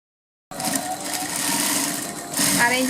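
A sewing machine stitching a churidar pant starts abruptly after a short silence and runs at a steady, close, loud motor whir with rapid needle chatter, speeding up slightly near the end, with a voice talking alongside.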